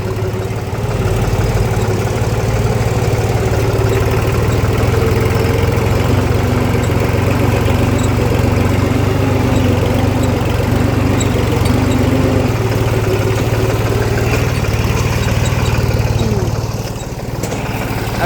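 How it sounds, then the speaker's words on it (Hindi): A tractor engine runs steadily at a loud, constant chug for the whole stretch, close by during rice harvesting, before easing off slightly at the very end. "ट्रैक्टर आ गया है घर पर, अब इसको खाली करवा देते हैं।"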